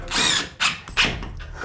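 A power drill drives screws into drywall, whirring in three short, loud bursts of rising and falling motor whine separated by brief pauses.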